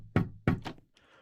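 A door shutting inside the Minecraft game during a horror mod, two firm thuds in quick succession, close and fairly loud, followed by a faint trailing hiss with no talk.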